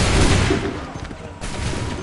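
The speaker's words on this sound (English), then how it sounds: "Open fire." Massed musket volley in Assassin's Creed III, a dense, loud crackle of many shots fired together, fading briefly before a second burst of fire.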